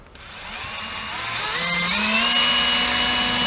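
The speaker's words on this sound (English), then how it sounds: "we've got to be very careful when we're drilling the hole" A power drill bores a hole through trim on a VW T1 Deluxe during fitting, its whine rising in pitch and growing louder as the motor spins up, close and alone.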